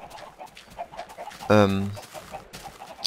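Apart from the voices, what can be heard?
chickens clucking in a glass coop in Minecraft, video game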